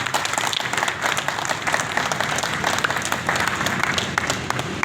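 Audience applause at a municipal workers' union Christmas celebration: a dense, steady burst of clapping from a crowd, loud and continuous for about five seconds, with no speech over it.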